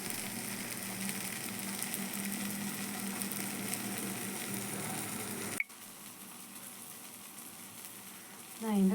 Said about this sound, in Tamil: நான் இந்த கொண்டக்கடலை டோஃபுவை வந்து கொஞ்சமாக வந்து எண்ணெய் விட்டு ஒரே ஒரு பல்லு பூண்டு, ஒரே ஒரு சின்ன வெங்காயம் போட்டு டோஸ்ட் பண்ணிட்டுருக்கேன்